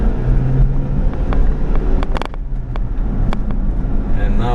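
A 1991 Subaru Sambar 4WD Super Deluxe kei truck, carrying a bike in the back, rolls over bump stops with a continuous engine and road rumble and several sharp clunks and rattles as it hits the bumps.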